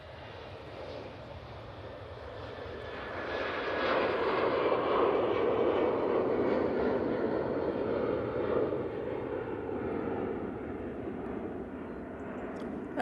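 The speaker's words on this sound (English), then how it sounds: "And that EasyJet's off to Bilbao." An EasyJet airliner taking off from Manchester Airport for Bilbao builds into a broad roaring rush that peaks and holds, then slowly fades, with no talk over it.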